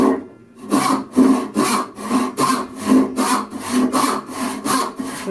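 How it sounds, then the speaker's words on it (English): A hand saw cuts a wooden tenon by hand in rhythmic back-and-forth strokes, about ten rasping passes at a steady pace, close and clear with no talking. "try and keep the saw somewhat parallel with your cut"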